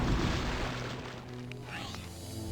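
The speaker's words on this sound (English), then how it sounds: "We'll use the magic missiles on this one." Magic missile spell impacts in the dark-fantasy shooter Hexen II, with a rumbling, booming burst over steady game ambience and a brief whooshing sweep near the end.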